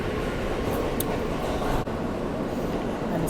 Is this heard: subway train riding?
yes